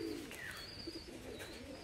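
A Madras pigeon of the laldoma style coos softly a few times, faint and close, with a high whistling call and light background noise.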